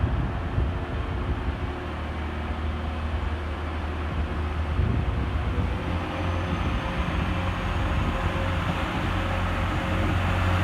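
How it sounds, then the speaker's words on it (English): A Class 185 TransPennine Express diesel unit pulls out on the far platform of Manchester Oxford Road station, a steady rumbling engine drone with rail noise building slightly midway, continuous and moderately distant with no talk. "Departing over on the far side 7 minutes late is 185-127 with the 1211 Transpennine Express service from Cleethorpes through to Liverpool Lime Street."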